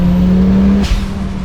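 An Audi Sport Quattro with a 500 hp turbocharged engine revs loudly and steadily toward its 7,000 RPM redline, then cuts off abruptly with a brief turbo whoosh as the revs drop. No one speaks.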